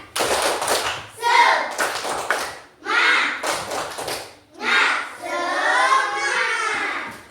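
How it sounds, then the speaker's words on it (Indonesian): Children in a classroom perform the rhythmic tepuk semangat clap, with bursts of sharp claps in a patterned rhythm alternating with chanted group voices, loud and close. "Ayo, tepuk semangat."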